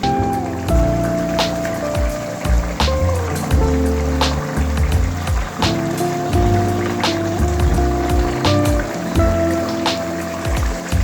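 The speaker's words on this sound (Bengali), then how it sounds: "এবার হাই ফ্লেম দিয়ে আর একটুখানি ঝোলটা ঘন করে নেব।" Mustard hilsa gravy bubbles and spatters on a high flame, thickening with dense irregular pops and sizzles that run continuously and fairly loud, with no voice.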